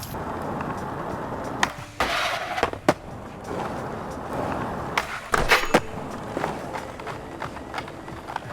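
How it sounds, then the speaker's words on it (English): A skateboard rolls steadily across pavement in the skate simulation video game Session, with a continuous gritty wheel roar broken by several sharp clacks and thuds from tricks and landings. "the skateboard is way louder"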